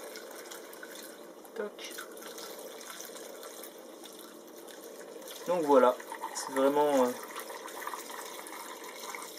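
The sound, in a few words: pouring gasoline into a two-stroke fuel mix container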